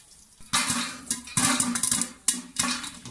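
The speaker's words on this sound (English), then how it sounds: "Keep shaking the pan" Caramel popcorn popping inside a covered pan that is shaken back and forth, giving bursts of rattling, scraping kernels against metal in repeated waves, close and loud with no talking.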